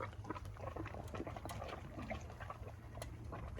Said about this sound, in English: Definitely got some gurgling going on in the cooling system.